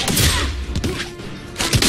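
Gunshots fired by Harley Quinn in a Mortal Kombat fighting game tournament match, a loud, dense burst of rapid shots, a short lull, then another sharp cluster of blasts.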